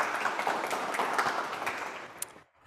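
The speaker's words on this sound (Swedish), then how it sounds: "Tack och en varm applåd." An audience applauds a guest called up onto the stage at a public hearing, a steady wash of clapping that fades out after about two and a half seconds.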